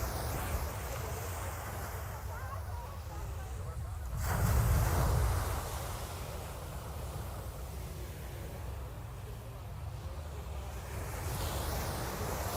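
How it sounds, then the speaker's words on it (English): Calm ocean surf at a beach in Sosua, Dominican Republic, soft waves washing in a faint steady hiss, one fuller wave breaking midway, with light wind buffeting the microphone. "Surf's been really calm for the last week or so."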